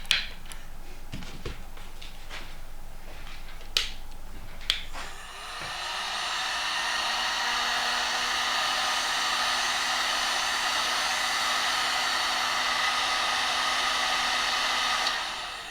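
A hot air blower heats a Fitbit Versa smartwatch clamped in a vise, running as a steady, fairly loud whooshing drone that starts a few seconds in after some faint clicks and handling taps and continues without talk.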